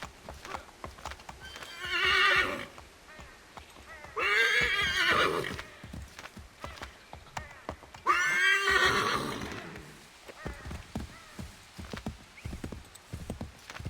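A horse in Assassin's Creed III neighs loudly in three long whinnies, spaced a few seconds apart, over a steady clip-clop of hooves that continues between and after them.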